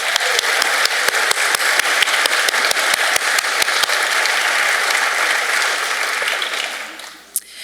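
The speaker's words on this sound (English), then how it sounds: "please join me in giving a round of applause for the members of the Book Club Sisters, the Page Turners, and the Word Warriors Book Clubs" An audience applauding book club volunteers at a book festival event: dense, sustained clapping from a sizable crowd that tapers off near the end.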